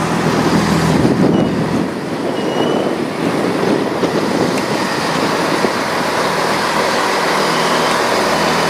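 Four-car passenger train on the Settle & Carlisle railway, heard close and loud with a continuous rumble of wheels on rail, some rattling and a brief squeal early on, and no talking.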